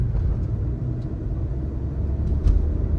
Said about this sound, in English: here we'll put the car in the sports mode now it's in the fourth gear